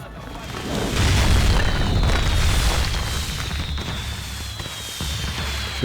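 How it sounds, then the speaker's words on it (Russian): A large explosion in the video game Max Payne 3, as the player blows up a drug operation: a heavy booming blast that rolls on with a long rumbling decay and crackling debris, loud and alone with no speech. "Все, взорвал к чертям."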